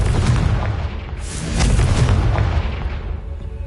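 A Confringo fire spell from Hogwarts Legacy explodes, giving a loud, sustained booming blast with rumbling low end and a brighter burst that swells partway through, no talk over it.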